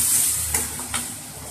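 Ginger garlic paste frying in hot oil for an Odisha-style egg curry, a steady soft sizzle with two brief stirring scrapes, close and alone.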